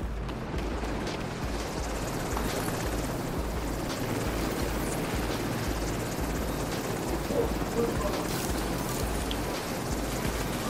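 A helicopter in The Division 2 during a stronghold mission, a steady low rotor rumble hanging over the scene with faint scattered game effects and no talking.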